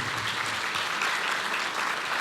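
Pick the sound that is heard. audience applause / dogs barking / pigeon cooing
audience applause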